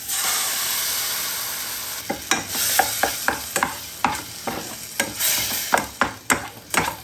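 Curry, onion and garlic sizzle steadily in hot olive oil in a pan, then a spoon stirs with a series of sharp close scrapes and clacks over the constant frying hiss.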